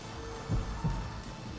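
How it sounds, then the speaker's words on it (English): Two heavy, low heartbeat thumps in quick succession throb loud over a steady dark hum in the Fate/Extra CCC video game. "With a thump, a remarkably loud heartbeat echoes in my ears."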